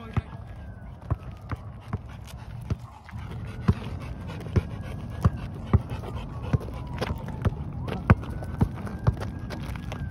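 A dog pants and runs on a hard surface, its footfalls giving a steady rhythm of sharp close taps with heavy breathing between them, as people talk in the background.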